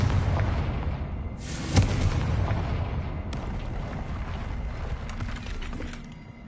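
A Confringo spell explosion in Hogwarts Legacy: a low, rumbling blast that rolls on as a long, heavy roar with scattered crackling debris, loud and close throughout.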